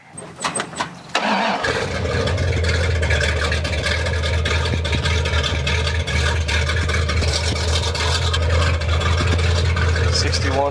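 A Dodge Ramcharger with a 327 small-block V8 cranks briefly, then catches and settles into a loud, steady rumbling idle close by, with a voice heard during the start.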